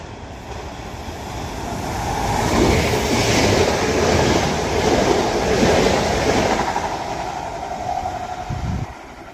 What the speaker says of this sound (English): Was a Transpennine Express Class 397, which is forming the delayed 1410 Transpennine Express service to Edinburgh Waverley from Manchester Airport.